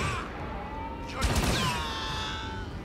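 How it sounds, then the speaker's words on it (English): Blaster-style gunfire erupts in a shootout in the Star Wars Outlaws video game, a loud rapid volley of overlapping shots with ringing, sweeping tails, mid-distance over a low background bed. "Oh my gosh, the shootout."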